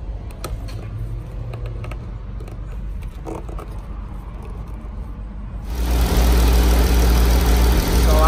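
A Jeep engine idling after an oil filter housing replacement: quiet mechanical clatter at first, then the engine starts and settles into a loud, steady idle hum close by.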